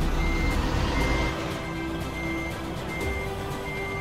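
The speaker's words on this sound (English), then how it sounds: "The truck still needs to park in the right spot." A delivery truck backs into its parking spot, its reversing alarm beeping in a steady regular rhythm over a low engine rumble, clear and fairly close.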